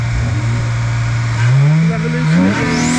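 A German tuned car at Tunerfest, Brands Hatch, idles with a steady drone, then its engine revs up sharply twice. The revs are close and loud over a busy background of event noise.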